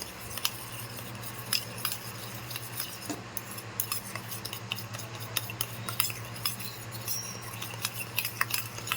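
A spoon stirs a milk powder kulfi mixture in a bowl, clinking steadily against the sides with a continuous busy scraping rhythm, close and fairly quiet, alone without talk.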